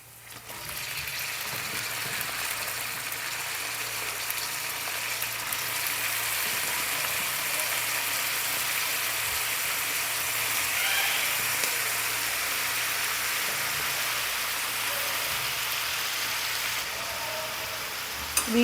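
Cut brinjal (eggplant) pieces sizzle and fry steadily in a hot pan for a waterless curry, a continuous close crackling hiss with no pauses and no talk.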